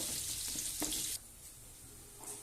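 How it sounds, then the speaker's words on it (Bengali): Chopped onions sizzle steadily in a hot pan while being stirred until brown, a loud broadband frying hiss for about a second before it drops to a quieter simmer, with no talk. "এবার ভালোভাবে এটাকে একটু নেড়ে নেব, বাদামি কালার করে নেব।"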